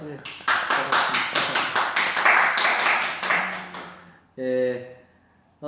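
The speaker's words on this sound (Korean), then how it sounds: "조심해서 잘 이사하실 수 있도록 격려의 박수" A small church congregation claps together at a Sunday service, about a dozen sharp, evenly spaced claps in a brisk rhythm that fade out, followed by a short spoken voice.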